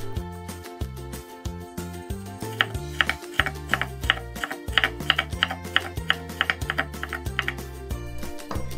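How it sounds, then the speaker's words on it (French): A knife chops stacked strips of tofu into matchsticks on a cutting board, giving rapid, evenly spaced taps that quicken into a steady crisp rhythm, close and clear with no talking. "on empile les lamelles et on coupe en allumettes"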